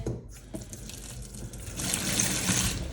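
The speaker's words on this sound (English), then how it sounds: "Water running fine." Tap water runs into a bathroom hand basin, a steady close splashing hiss that swells louder partway through, with no talking.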